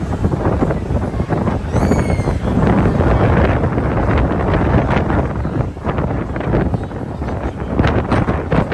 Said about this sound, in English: Ooh, the wind.